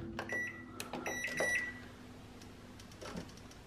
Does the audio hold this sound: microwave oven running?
yes